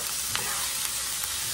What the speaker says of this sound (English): Stir this meat around.